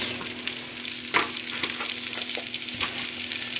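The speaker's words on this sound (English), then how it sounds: "Now we're going to add some onions." Onions sizzle and crackle steadily in hot oil in a pan on a stovetop set to medium, with small pops and light spatula clinks over the continuous frying hiss.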